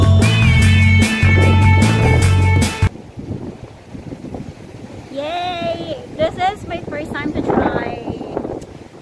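Wind blusters across a kitesurfing beach in Pagudpud, Ilocos Norte, Philippines, with rough, gusty noise buffeting the microphone after a burst of music ends. Voices and high squeaky calls come through over the wind.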